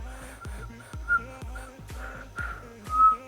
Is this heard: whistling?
yes